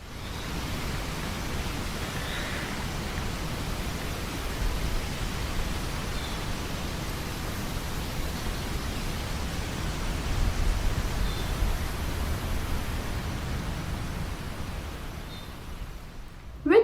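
Steady broadband storm noise like heavy rain and wind, continuous and fairly loud throughout with slight swells, accompanying the painting Storm Over the Fields.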